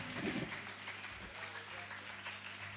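A live audience claps for a band playing at a concert, a dense, sustained wash of applause with a voice briefly heard over it near the start.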